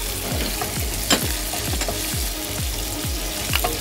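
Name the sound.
capsicum frying and being stirred in a pan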